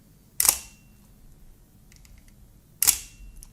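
A single-lens reflex camera shutter firing at 1/60th of a second, two separate crisp clicks about two and a half seconds apart, each a sharp close snap in a quiet room with no talk.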